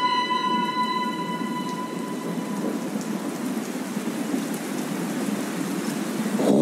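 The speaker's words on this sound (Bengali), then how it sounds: "অজোরে বৃষ্টি পড়ছে," Heavy monsoon-night rain pours in a dense, steady hiss without pause, with a faint tonal hum fading out early and no voices.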